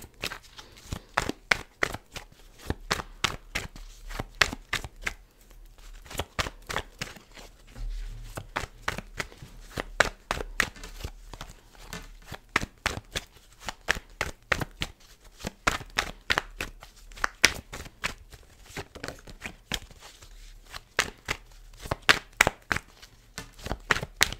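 Tarot cards being riffled and cut by hand, a long run of dense, crisp paper flutters and slaps in quick bursts, close and fairly quiet, with no talking.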